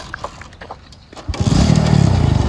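A motorbike engine starts up partway through after a few quiet knocks and clatters, then keeps running with a loud, throbbing putter close by.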